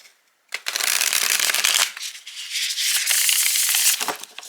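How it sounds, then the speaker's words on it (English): Tarot cards are shuffled close up in two bursts of rapid riffling and rubbing, separated by a brief pause. "Ooh, this is going to be a good shuffle."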